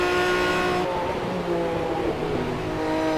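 Aston Martin GT1 race cars at full speed on the Silverstone GP circuit, a loud continuous engine roar with a shift in pitch partway through as the cars pass close by.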